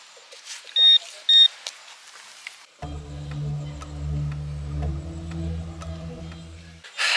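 A metal detector sweeping the ground at Modlin Fortress gives two short, clear electronic beeps. A loud, low engine rumble then starts and runs steadily under the rest of the outdoor scene.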